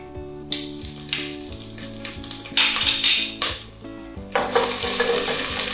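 Garlic and ginger sizzle in oil in a pan as vegetables sweat. A loud, close frying hiss comes with sharp clinks and scrapes of stirring against the pan.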